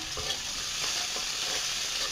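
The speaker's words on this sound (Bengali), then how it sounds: "পেঁয়াজগুলো সুন্দর করে এখন ভেজে নেব" Chopped onions fry in oil in a pan, a steady close hiss of sizzling broken by a few soft stirring scrapes, with no voices.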